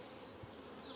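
Honey bees buzz around a beehive, a steady, dense droning hum that fills the short moment without any pause.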